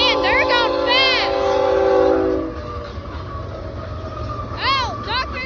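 A fast military train rushes past at close range, its horn sounding in bright chirping blasts near the start and again toward the end over a steady low rumble of wheels and cars.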